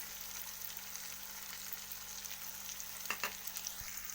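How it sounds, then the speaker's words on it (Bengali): Fried chicken sizzles quietly in a pan with spices, a soft steady frying hiss broken near the end by a couple of sharp utensil scrapes and clinks. "ভেজে রাখা চিকেনটাকে দিয়ে দেবো ভালো করে নাড়িয়ে নেব"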